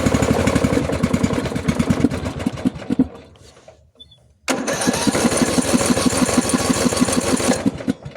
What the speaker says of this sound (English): On choke, and then I throttle it and it dies.